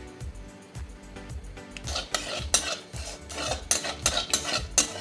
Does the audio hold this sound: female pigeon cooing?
no